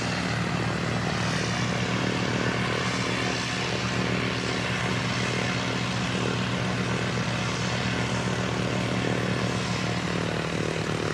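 An aircraft departs Christchurch Airport, its engine and propeller roar holding as a loud, steady, continuous drone throughout.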